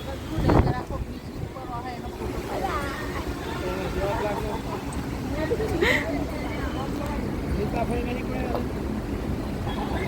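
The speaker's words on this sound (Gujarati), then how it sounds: "સરસ મજાના એવો ને ઠંડો ઠંડો પવન આવે છે" Steady, cool wind rushes across the microphone outdoors in a temple garden in Kamrej, Surat, with people talking and background chatter underneath throughout.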